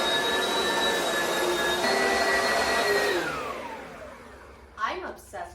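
An Oreck Commercial XL bagged upright vacuum cleaner runs with a loud, steady whine and airflow roar, then powers down and winds off, followed by a couple of faint clicks and thumps.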